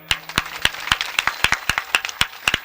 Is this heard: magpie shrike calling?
no